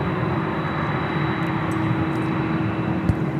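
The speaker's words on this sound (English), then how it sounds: "767 about to take off is 767 Bolt Delta" A Boeing 767 jet takes off at LAX, a steady broadband engine roar holding level and loud throughout with a faint tonal whine on top and no voices.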